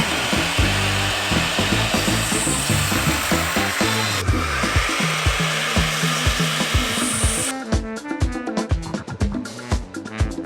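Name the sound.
miter saw cutting wood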